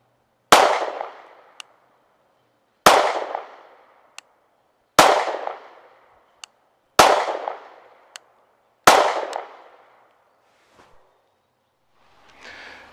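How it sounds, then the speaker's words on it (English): Five sharp, loud pistol shots from a Canik Mete MC9 9mm fired at a 15-yard target in an outdoor drill, evenly spaced about two seconds apart, each ringing out with a short echo, with no talking. "I'll fire another drill after that with the 12-round magazine fully loaded with a round in the chamber"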